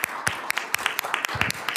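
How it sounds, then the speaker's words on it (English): Scattered applause in a Senate Rules Committee hearing room, a modest number of people clapping irregularly with individual sharp claps standing out, close and fairly quiet. "So we should give you applause here."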